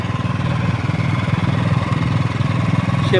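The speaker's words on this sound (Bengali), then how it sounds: "এখন ড্যাঙ্গার সাইড দিয়ে বাইক রাইড করছেন, প্রায় সাগরের ড্যাঙ্গার সাইড দিয়ে।" A motorcycle engine drones steadily during a ride along the seashore, a loud continuous close thrum with even pulsing and wind noise, no clear speech over it.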